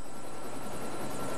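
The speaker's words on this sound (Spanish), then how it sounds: "¿Sabes pilotar helicópteros?" Helicopter in the Lego City Undercover video game, a steady rotor and engine drone filling the whole stretch at moderate loudness, with no voices over it.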